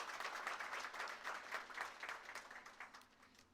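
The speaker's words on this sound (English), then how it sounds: "So please give the Cleveland Public Library staff, from all of our different departments, a big round of applause for what they've done here today." A room claps for Cleveland Public Library staff at the West Park grand opening, lively rhythmic clapping that swells, then gradually thins toward the end.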